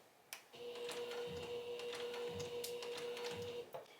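A domestic sewing machine stitches fabric for a small book-themed sewing project, producing a steady mechanical hum with a faint rhythmic thump, quiet and close, running for about three seconds.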